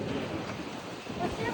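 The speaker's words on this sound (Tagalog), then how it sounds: "Di ba napakalakas ng hangin?" Strong wind at the sea buffets the microphone with a continuous roaring rumble, and waves wash underneath, loud and close throughout.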